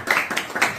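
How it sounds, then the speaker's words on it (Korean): Applause from an audience of young people at a mentoring lecture, a short spell of a few distinct, fairly close hand claps in uneven rhythm. "오늘 박수 소리가 우렁차네요."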